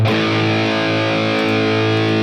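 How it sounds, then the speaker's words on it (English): An electric guitar through a distortion pedal on a NUX MG30 amp modeler rings out as one sustained, heavily saturated chord, loud and alone, slowly decaying. "By themselves, they sound horrible, I think, if you play only these distortion pedals in the clean channel"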